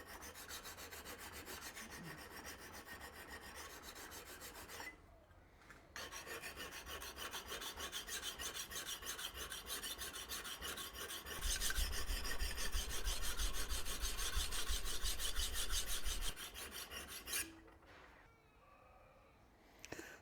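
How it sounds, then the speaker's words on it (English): A knife blade is rubbed back and forth on a sharpening stone after rough grinding, a steady close rasping scrape that carries on for long stretches with two brief pauses and grows louder toward the end. "we'll just give this a little bit of a rub with a stone to get that sort of bit of an edge on it"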